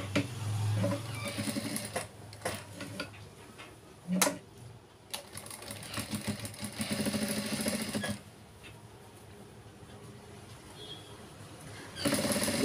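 A domestic sewing machine stitches a boat neck blouse in bursts of rapid mechanical whirring, pausing and restarting several times with faint handling noises between runs.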